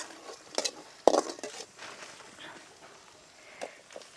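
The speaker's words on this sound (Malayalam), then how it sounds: "അതുവരെ നമുക്ക് ഇളക്കി കൊടുക്കാം." A spoon stirs curry leaves, garlic and shallots frying in a pan for egg chutney, giving a few scattered clinks against the pan over a low, quiet background.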